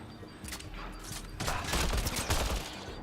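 Sci-fi combat gunfire in Mass Effect Andromeda, a burst of rapid automatic shots swelling into heavier sustained fire with booming impacts, loud and close, no talking.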